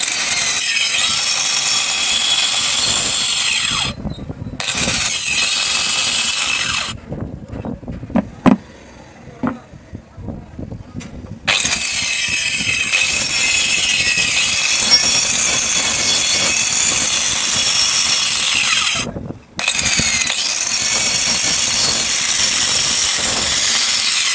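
A hand saw cutting wood for a door frame: loud, continuous rasping strokes, near and steady, broken by a few short pauses and a longer gap with lighter knocks and scrapes.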